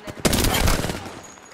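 Automatic gunfire from a firefight in the video game Apex Legends: a loud, dense burst of rapid shots lasting about a second, then fading out.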